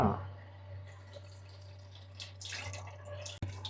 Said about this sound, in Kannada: ಬಿಸಿನೀರು ಬರುತ್ತಾ?